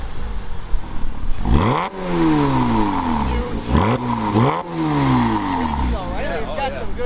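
A 2006 Porsche Boxster S with a Top Gear valved catback exhaust, valve open, revs loudly three times with rising and falling raspy engine howls and an idle in between, while voices talk nearby.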